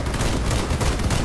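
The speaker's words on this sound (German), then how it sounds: "Ich schieße beim Vorbeifahren einfach nur noch" Vehicle-mounted weapons fire nonstop in the combat game Crossout, a loud, dense, unbroken roar of shots with no gaps or voices.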